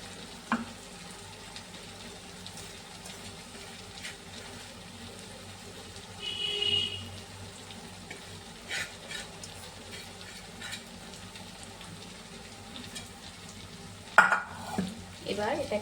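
Chowmein is stir-fried in a pan and mixed with spices: a soft sizzle sits under intermittent scraping and stirring strokes, with a sharp metallic clank near the end.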